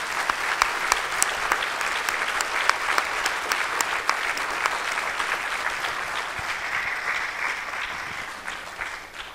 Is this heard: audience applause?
yes